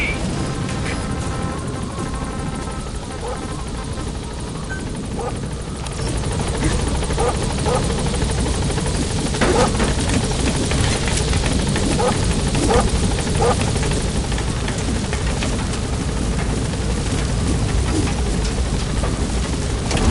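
A helicopter approaches a landing zone in Metal Gear Solid V, its loud, steady rotor thrum and engine drone growing fuller partway through and holding close.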